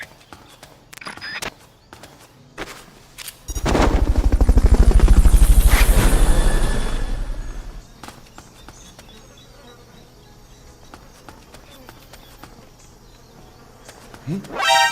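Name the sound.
helicopter in Metal Gear Solid: Peace Walker video game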